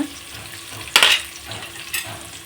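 Onions frying in a pan for vegetable palav sizzle steadily and close up, with two sharper bursts of hiss as the pan is stirred or the onions shift, and no talking.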